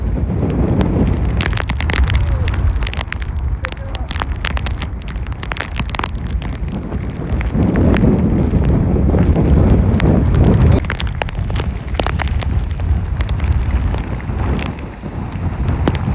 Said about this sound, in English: This wind's really bad.